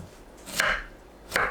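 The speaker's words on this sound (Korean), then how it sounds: "애호박은 양끝을 자르고 어슷 썰어주세요." A knife slices diagonally through Korean zucchini on a cutting board, two crisp, close chops less than a second apart against a quiet kitchen background.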